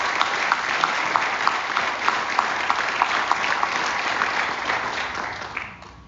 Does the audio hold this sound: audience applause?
yes